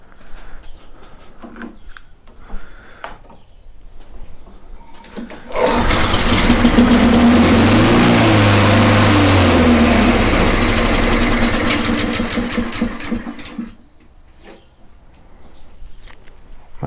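A Honda HRR216 lawn mower engine being started after plug checks, catching and running loud and fast for several seconds with a steady drone, then cutting out; quieter handling noises come before and after.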